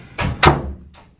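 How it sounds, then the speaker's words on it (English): A door pushed shut indoors in a home, two close thuds in quick succession with a short rattling tail, then a faint click, no talking. "Closing the door because we don't want boys to hear us."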